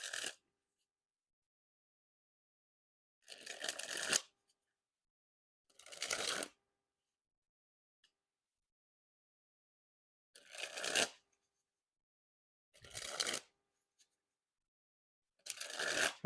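A Dan and Dave Damn Good Cards deck is dribbled and shuffled in six separate bursts, each a quick flurry of crisp riffling and flapping, with short silent gaps between them.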